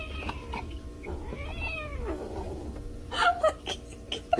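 A house cat meows repeatedly from inside a fridge, with a drawn-out wavering cry in the middle followed by a couple of shorter, sharper calls near the end, fairly close and clear.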